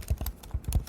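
Rapid, loud keystrokes on a computer keyboard, a quick run of sharp clacks in uneven bursts, close and alone with no talking.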